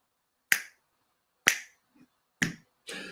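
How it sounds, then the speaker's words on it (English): Finger snaps performed as the beat for a storyteller's rap, four crisp sharp clicks spaced about a second apart, close and alone against silence. "It's called The Three Billy Goats Gruff Rap. It's a finger snap."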